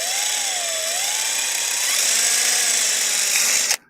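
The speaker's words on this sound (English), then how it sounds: "So we're gonna drill maybe 4 holes in here." A cordless power drill boring holes, a loud steady high-pitched whine with its pitch wavering as the bit cuts, running continuously for several seconds before stopping abruptly.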